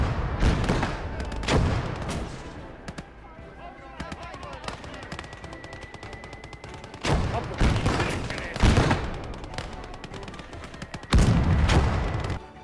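Video game gunfire in a hellish combat setting: sustained loud bursts of rapid automatic shots with heavy booming blasts, dense and continuous throughout, close and overpowering.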